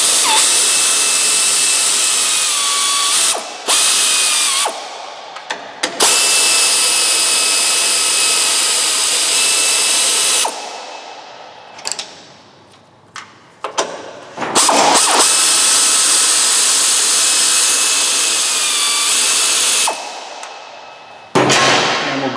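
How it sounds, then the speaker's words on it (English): Loud whirring of a power tool on the strut mounting bolts of a Hyundai Sonata during front suspension work, in long sustained runs with short pauses and a few clanks between them, close-up and without talk. "Now remove these 3 strut mounting bolts"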